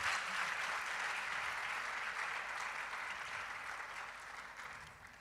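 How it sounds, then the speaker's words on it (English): Steady audience applause after a performance at a STEM conference opening session, a dense wash of many hands clapping that fades slightly toward the end. "Please let's give Ebubro Kosua another round of applause."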